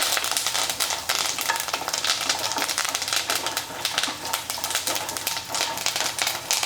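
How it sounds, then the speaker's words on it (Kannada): Garlic, peanuts and curry leaves fry in hot oil, giving a dense, steady crackling sizzle with quick spits and pops and no voices. "ಬೆಳ್ಳುಳ್ಳಿ, ಶೇಂಗಾದ ಕಾಳು, ಕರಿಬೇವು ಎಲ್ಲ ಚಲೋ ಹೊತ್ತಿಗೆ ಎಣ್ಣೆಗೆ ಫ್ರೈ ಮಾಡ್ಕೋಬೇಕಾಗ್ತದೆ"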